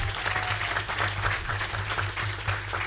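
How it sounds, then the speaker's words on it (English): Applause at a university climate conference following a choir performance, a continuous soft patter of clapping from an audience, moderately distant, with a low hum underneath. "Round of applause"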